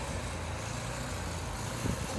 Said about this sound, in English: Using the snow blower to do the snow.